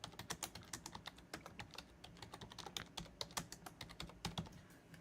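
Rapid typing on a computer keyboard sits close to the microphone, with dense, uneven bursts of crisp key clicks and a few heavier taps, continuous and fairly quiet.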